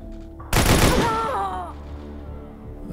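A single weapon shot fires in the tactical game Xenonauts 2, a sharp loud blast followed by a decaying rumble and ringing tail over steady background game sound.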